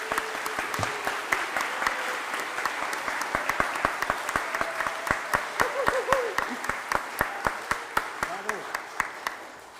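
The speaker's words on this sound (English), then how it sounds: "Please, a round of applause." A church audience applauds during a live-streamed service, a steady wash of many hands clapping with sharper individual claps standing out, while a voice speaks over it.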